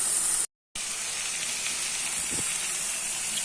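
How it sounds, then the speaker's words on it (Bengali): Spice paste for egg curry fries in hot oil, a steady broad sizzling hiss that runs almost continuously, broken by one brief dropout near the start, with no talking. "আমি খুব ভালো করে এটাকে কষিয়ে নিচ্ছি, তেলটা সাইডে চলে আসা পর্যন্ত আমি এটাকে কষাবো।"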